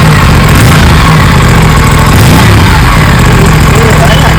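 Aprilia RS 457 motorcycle engine running loud and close, a steady throbbing drone with slight revving swells throughout.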